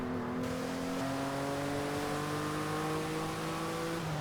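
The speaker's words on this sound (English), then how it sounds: "Always a great sound of the VR6 in this car." A VR6 car engine revs and climbs steadily in pitch, a smooth six-cylinder growl heard close and continuous without any speech.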